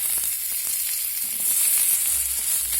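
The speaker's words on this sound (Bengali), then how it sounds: "এখন আবারও কড়াই তেল দিয়ে দিয়েছি" Potatoes fry in hot oil in a wok, giving a continuous, even crackling sizzle at close range with no voices.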